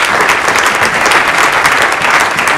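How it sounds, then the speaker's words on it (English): A church congregation applauding its deacons at a Sunday service, loud and dense clapping from many people close by, steady for the whole stretch with no speech over it. "Let's give them a round of applause for the glory of God."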